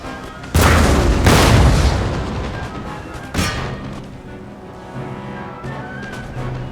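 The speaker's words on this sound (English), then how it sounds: "Artillery!" Artillery in the Empire Total War video game fires in loud, deep booms, two close blasts near the start and another a few seconds later, each leaving a rolling rumble.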